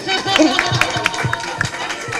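Audience clapping at a film press conference in Delhi, a scattered burst of claps in a crowded hall mixed with chatter and murmuring voices.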